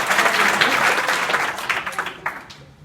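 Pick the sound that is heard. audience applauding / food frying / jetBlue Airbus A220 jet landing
audience applauding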